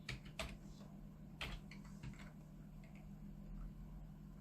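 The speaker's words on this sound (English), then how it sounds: "I type the hourly salary." A few quick keystrokes on a computer keyboard while entering payroll data into a Python program, soft clicks bunched near the start and again around the middle, then fading into a steady low room hum with no voices.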